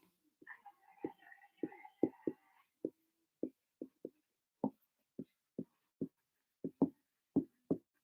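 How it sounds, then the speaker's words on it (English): Muffled thuds bang repeatedly on a door, roughly one or two a second, distant and dull, with faint indistinct murmuring early on. "I can hear my sister going and tugging and banging on the door"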